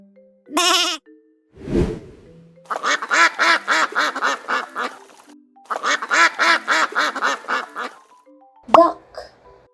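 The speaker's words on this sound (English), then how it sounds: "Duck." Duck quacking in a quiz of animal sounds: two long runs of rapid, harmonic quacks, loud and close, with a few isolated calls before and a single sharp quack near the end, with no talking.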